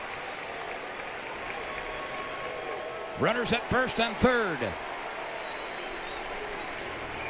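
A college baseball stadium crowd cheers and applauds in a brief swell after a base hit, with a few rising shouts, while a commentator talks over steady background crowd noise.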